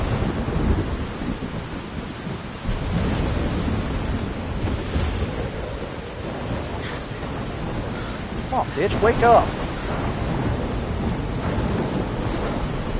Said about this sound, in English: Oh shit, thunderstorms.